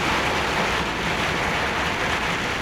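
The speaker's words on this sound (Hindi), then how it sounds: "बारिश देखो कितनी तेज़ है" Heavy rain drums steadily on a car moving through mountains in Italy, a dense, unbroken wash of noise heard from inside the cabin with no voices.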